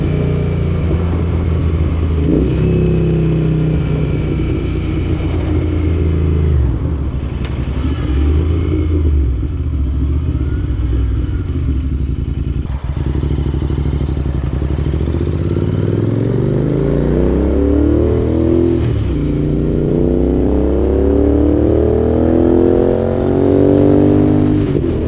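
Royal Enfield Continental GT motorcycle on a test ride, its engine droning loudly and steadily throughout with rising and falling revs as it accelerates and shifts, heard up close with wind.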